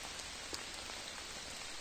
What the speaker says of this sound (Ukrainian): Паде дощ.